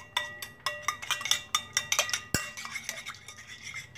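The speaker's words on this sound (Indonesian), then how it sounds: "Oke, kita kocok dulu Bunda." Whisk clinking rhythmically against a bowl while ingredients are beaten for risoles, quick bright metallic taps repeating close by, with one sharp knock midway.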